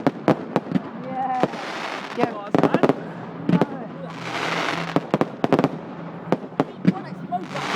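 Fireworks exploding nearby, a string of sharp loud bangs and crackles scattered irregularly over bursts of fizzing, with people talking and reacting underneath.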